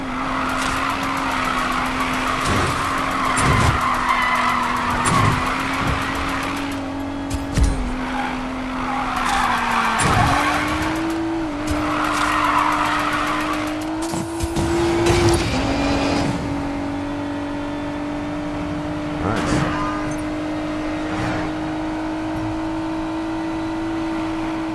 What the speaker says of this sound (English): That was some good drifting, I guess.